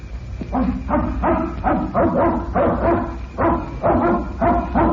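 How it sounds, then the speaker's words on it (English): A dog barks and yips repeatedly in a steady, agitated rhythm, loud and close, with a low rumble underneath, in an old radio detective drama. "That must be the dog you told us about."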